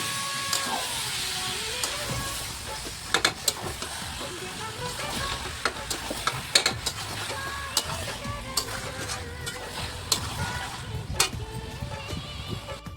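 Chicken pieces fry in oil during slow kosha cooking, a steady sizzle broken by repeated sharp clinks and scrapes of a spatula against the pan, with whining and motor-like sounds in the background.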